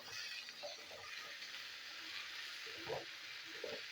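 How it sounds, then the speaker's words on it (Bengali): Bitter gourd pieces frying in oil with turmeric and a little salt give a steady, faint sizzle. Soft scrapes and stirring knocks surface now and then beneath it. "তা উচ্ছেটা আমি নাড়াচাড়া করি তেলের মধ্যে"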